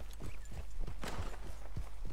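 Hoofbeats of a black Arabian horse walk along in Red Dead Redemption 2, a regular run of soft close clops with a brief brighter rustle partway through, over low background hum.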